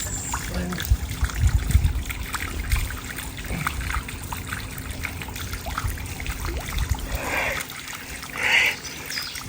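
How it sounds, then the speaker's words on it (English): Clean water spills over the top of a tank fitted without a float valve, a steady close trickle and pour that runs the whole time, with brief muffled sounds and faint voices in places. "We forgot to put the floater on, so now it's overflowing."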